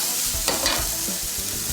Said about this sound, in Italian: Fatele soffriggere per bene.